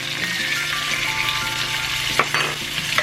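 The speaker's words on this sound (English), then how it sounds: "now I'm gonna add some minced garlic to it" Minced garlic sizzling in a hot pan while cooking dinner, a close, steady frying hiss with a couple of sharp clicks and stirring scrapes near the end, no voices.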